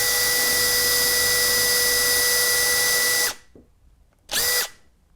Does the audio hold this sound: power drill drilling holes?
yes